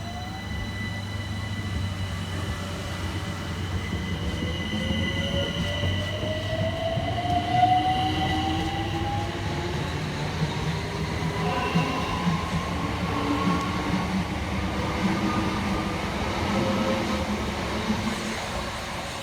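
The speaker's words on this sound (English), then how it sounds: "Next out to depart be 376014 and 376032 with the 1513 Southeastern service from Hayes through to London Charing Cross" Two coupled Southeastern Class 376 units pull out of Hayes station, motors whining and rising in pitch as the train accelerates away, with steady rolling rumble and occasional wheel squeal close by.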